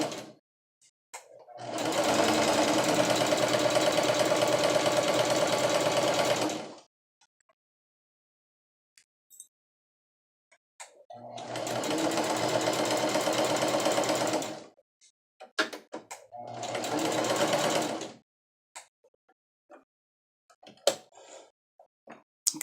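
Sewing machine running in three bursts of zigzag stitching along an infinity scarf, steady and close, with quiet pauses and small handling clicks between runs.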